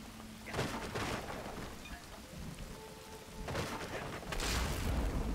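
Rain pours steadily in the video game 9 Monkeys of Shaolin while thunder cracks and rumbles in bursts at the start, middle and end, loud and broad, with no talk.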